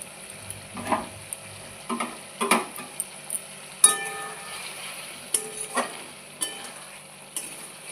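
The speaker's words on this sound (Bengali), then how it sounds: "দিয়ে এবার আর একটু নাড়িয়ে নিলেই হবে মাছের ঝাল হয়ে গেছে" Rita fish curry being stirred in a pan, a quiet background sizzle broken by a series of separate scraping and clinking stirs at irregular intervals, close and without voices.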